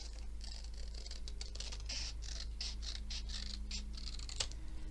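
Scissors cut paper for a journal tuck spot, a series of close, crisp snips in quick rhythm over a low steady hum, with no voice.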